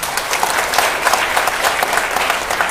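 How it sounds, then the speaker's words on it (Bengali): Loud, dense audience applause at a public address, many hands clapping steadily and evenly throughout with no talk over it. "তাদের জন্য একটা হাততালি"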